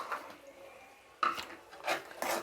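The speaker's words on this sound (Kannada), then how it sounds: "ಇದರಲ್ಲಿ ನಾನಿವಾಗ ಹಸಿ ಬಟಾಣಿ ಆ್ಯಡ್ ಮಾಡ್ಕೊತಾ ಇದ್ದೀನಿ" Fresh green peas tipped into a pan for paneer butter masala, heard as a few short clattering, scraping bursts of metal and stirring, close and fairly quiet.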